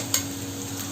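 Chow mein ingredients such as beans, carrot, onion and chicken frying in a pan, giving a brief, steady close sizzle with a single quick clatter of a utensil.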